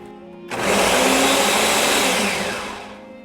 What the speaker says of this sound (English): I'm going to add that to the blender as well. That'll help smooth it out.